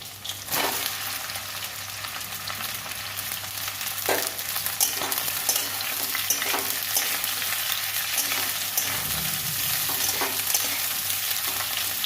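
Ridge gourd and boiled potato fry in a pan with a steady, close sizzle, punctuated by occasional stirring scrapes and a brief low bump near the end; no one speaks.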